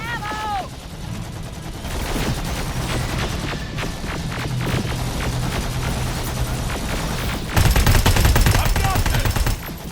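Dense automatic and single-shot gunfire in the Terminator: Resistance combat game, steady rapid bursts throughout with a louder, heavier volley near the end, shouted voices mixed in over the shooting.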